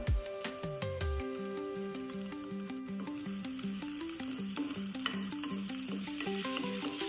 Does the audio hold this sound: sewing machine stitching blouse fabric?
no